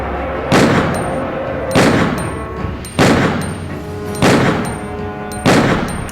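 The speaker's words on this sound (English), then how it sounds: "I'm just gonna spam shoot." Five loud gunshots from Leon's weapon in Resident Evil 2, fired at a steady pace roughly one second apart, each a sharp crack with a ringing tail and no voices over them.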